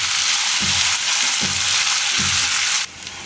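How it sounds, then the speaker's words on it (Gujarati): Sweet potato slices sizzle steadily in a frying pan, with three soft scraping stirs of a spatula at regular intervals before the frying noise drops away near the end. "વચ્ચે વચ્ચે આપણે હલાવતા રહીશું."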